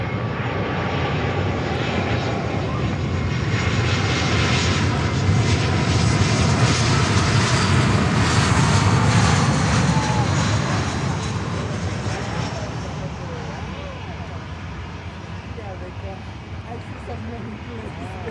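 An aircraft landing on runway 9 at Miami airport, a loud sustained engine roar that swells and then slowly fades, with no talk over it.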